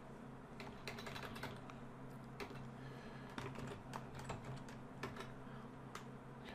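Fingers tap steadily on a computer keyboard while a name is typed for a 3D modeling file, quick light clicks in short irregular runs over a constant low hum, close and fairly quiet, with no talking.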